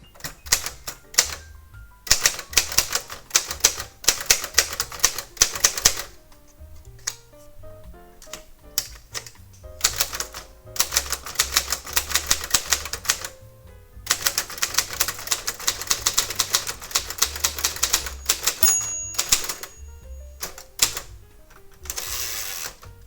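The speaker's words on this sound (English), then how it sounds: "Here's a quick little sample of what it sounds like to utilize this typewriter." Rapid mechanical keystrokes from a Royal QDL typewriter clatter in bursts with brief pauses between, close and crisp, with occasional carriage-return sounds.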